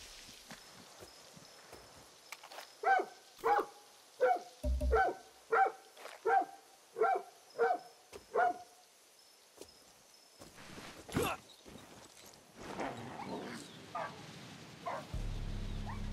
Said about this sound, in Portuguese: Cara, cachorro gritando.